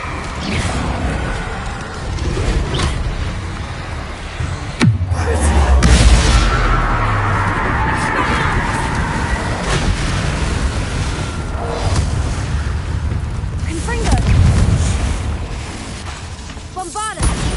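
A booming Bombarda spell explosion in Hogwarts Legacy lands as a sudden loud blast followed by a rumbling crash, with a second deep boom later, while a voice speaks over the action.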